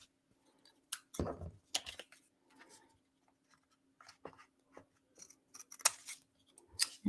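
Regular scissors snipping paper while making a handmade stamped card, a few sharp close cuts separated by quiet pauses, heard alone.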